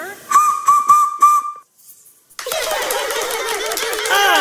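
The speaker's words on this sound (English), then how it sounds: "surprise party with a colorful collection of toy whistles" A toy whistle gives four quick shrill toots with a steady tone, then after a brief pause a louder, breathier rushing whistle carries on to the end, close and alone.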